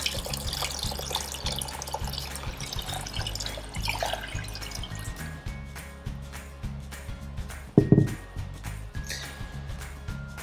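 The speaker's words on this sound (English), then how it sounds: "I'm going to add water to mine." Water runs and splashes steadily from a tap into a container of paper pulp, with a few drips and one louder slosh near the end.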